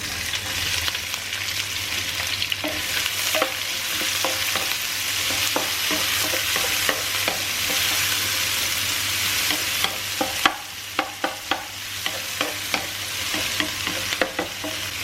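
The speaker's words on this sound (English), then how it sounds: "We will fry it till the onion change its color." Onions with curry leaves fry in a kadai for a North Indian kadhai chicken, giving a steady close sizzle with sharper crackles and spatula clinks bunching up toward the end.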